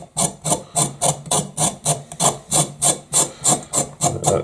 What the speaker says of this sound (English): Let's get a quick scrape.